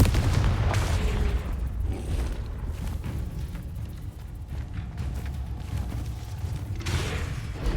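A Confringo blasting curse explodes in Hogwarts Legacy, a low rumbling boom followed by a sustained crackling roar that fades and then swells again at the end.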